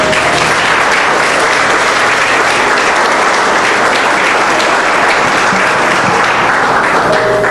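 Church congregation applauding together in a sustained, dense, loud burst of clapping that fills the space evenly from start to finish, with no voices standing out.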